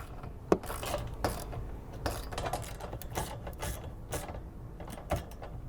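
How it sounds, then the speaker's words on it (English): Bolts being tightened on a Molle side panel fitted to a Toyota Prado, with close, quick ratcheting clicks and mechanical rattles in uneven bursts over steady background noise, and no talking. "I'll just tighten everything up now"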